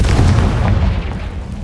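A Confringo fire spell explodes in Hogwarts Legacy, one loud, deep booming blast with a rumbling tail that fades over a second or so.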